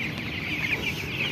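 Chickens cluck steadily in a poultry shed holding birds of roughly 650 to 700 grams, a dense continuous flock chorus heard close by with no voices over it.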